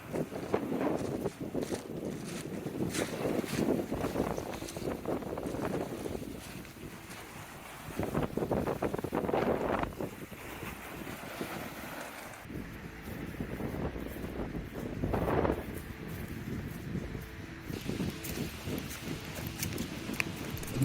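Strong wind buffets and roars in heavy gusts, rising and falling over a constant rumble, loud and close throughout.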